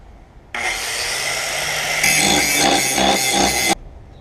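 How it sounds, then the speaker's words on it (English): Power grinder cutting down one side of a metal part for a tool stand on a Cincinnati milling machine, a loud steady abrasive whine that starts abruptly, grows harsher midway and stops after about three seconds. "what you've got to do is kind of grind down the one side so that it will sit right."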